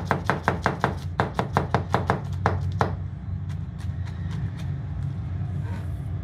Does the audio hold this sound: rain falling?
no